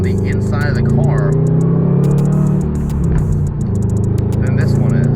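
A Subaru WRX with a Nameless 4-inch axleback exhaust drones with a deep, low engine note that holds steady and swells slightly, heard close and loud from inside, with sharp clicks and voices in the background.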